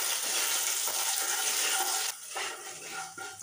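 Whole coriander seeds and chilies roasting in a pan give a steady, moderate sizzle that drops in level partway through, with light stirring scrapes.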